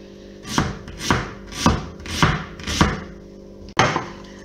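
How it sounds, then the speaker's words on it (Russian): Six crisp, evenly spaced knife chops strike a cutting board, the rhythmic cutting of an onion into small pieces, close and clear with no talking. "Лук нам нужно нарезать просто таким мелким кубиком."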